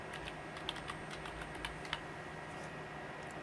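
A computer keyboard clicks softly as a signature name is typed, steady light keystrokes over a faint constant hum, without any talking.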